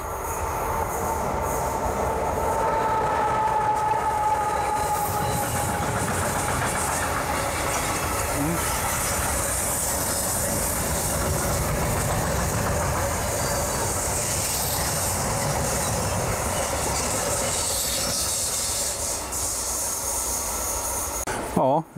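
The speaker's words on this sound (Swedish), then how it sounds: "Nu väntar vi in tåget bara." A train rumbles past close by for a long stretch, steady clatter of wheels on rails with a faint squeal, loud throughout.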